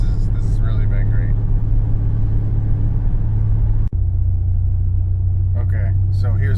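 A Pontiac GTO on the road gives a steady, loud low engine rumble with constant cabin drone throughout, one brief thump midway, and a person talking over it.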